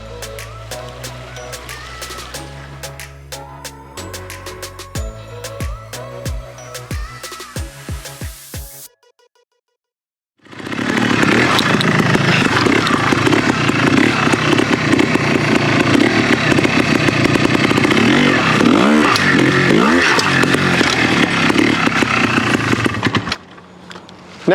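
A Yamaha TY 250 trials motorcycle engine starts up after a brief silence, then runs loud and close and is revved repeatedly for about fourteen seconds, with rising and falling pitch swings.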